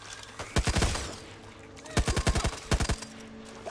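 Gunfire in Back 4 Blood, a co-op zombie shooter: three separate bursts of rapid shots, each four to six cracks in quick succession, loud and close against a quiet background.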